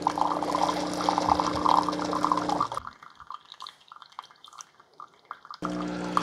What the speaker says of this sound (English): you're noticing coffee come out of both those holes